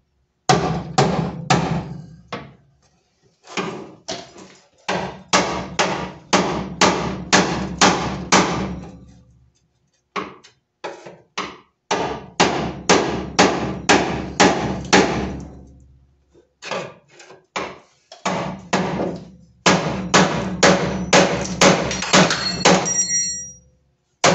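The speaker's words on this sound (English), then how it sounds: "Just gave it a couple whacks and it's already getting underneath the" A hammer strikes a transmission bracket to break its spot welds in a K swap or J swap, with rapid bursts of sharp metallic whacks in several long series separated by short pauses, loud and close.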